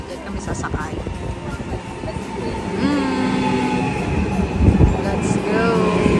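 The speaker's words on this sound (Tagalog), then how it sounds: "Ito ang aming sasakyan na tren." A passenger train rolls close by, a loud rumbling roar with rising whining tones, while people talk over it.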